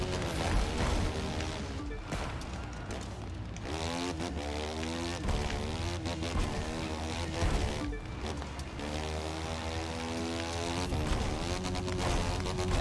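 A KTM 450 EXC motocross bike engine in the video game The Crew 2 buzzes and revs, its pitch climbing and falling in repeated throttle sweeps, with brief dips between runs.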